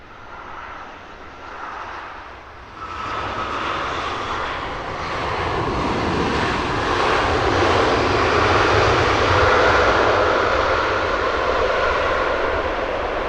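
An American Airlines Boeing 787-9 in from New York JFK lands at Heathrow, its loud jet roar swelling from a softer start into a sustained, broad rush that holds strong to the end, with no talk.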